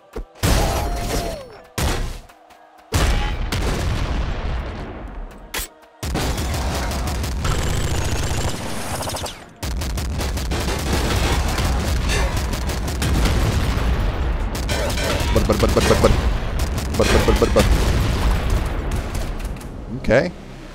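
Heavy machine gun in the top-down shooter Nuclear Throne firing dense, loud bursts with booming impacts and explosions, broken by a few short pauses and continuing almost without letup.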